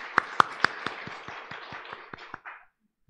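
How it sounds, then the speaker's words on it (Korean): A congregation at a Sunday church service gives a round of rhythmic, evenly spaced claps, about a dozen beats with a few sharp accents up front, fading out before stopping abruptly. "우리 하나님께 찬양과 영광의 박수를 올려드리겠습니다."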